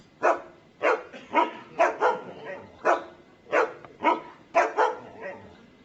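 A dog barks repeatedly in a steady series of about a dozen sharp, loud barks, some in quick pairs, close by, with little else around them, in a comedy sketch.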